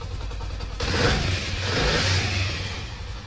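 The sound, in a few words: motorcycle engine revving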